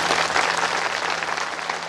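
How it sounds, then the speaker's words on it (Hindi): An audience at an outdoor village religious gathering claps in a dense, steady burst of applause that fills the whole moment, loud and close, with no talking over it. "जोरदार ताली बजाइए।"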